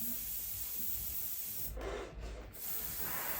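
An airbrush hisses steadily as it sprays weathering paint onto a model Class 37 locomotive in BR Blue livery, a close, continuous spray with one brief dip in the middle.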